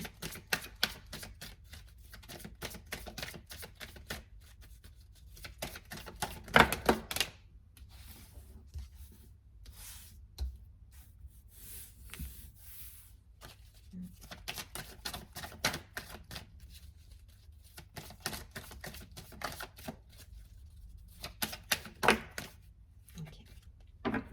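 Oracle cards being handled and shuffled, with repeated crisp flicking and riffling bursts up close, broken by brief quiet pauses and no talk.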